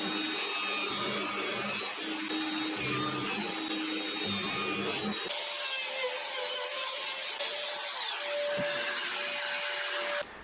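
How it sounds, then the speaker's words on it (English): A pillar drill whirs steadily with a grinding, rasping bite while drilling guitar parts, then settles into a higher, even motor whine for several seconds before cutting off. "I'm just going to drill these out on the pillar drill now."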